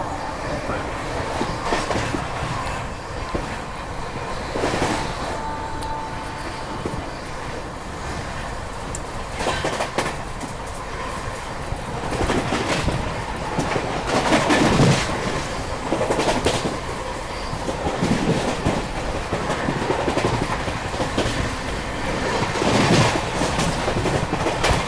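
The ShivGanga Express train runs on tracks between Varanasi and Delhi, passing Hathras and Aligarh junctions, with a continuous loud rumble and repeated clickety-clack wheel beats heard from on board, alone with no talk.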